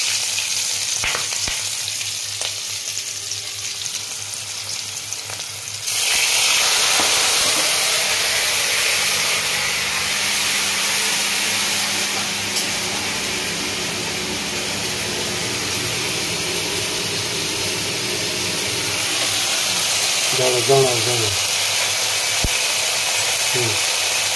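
Water poured into hot mustard oil with green chili and cumin tempering sets off a sudden loud, steady sizzle that persists, after a quieter opening with light clatter; a voice speaks briefly under it.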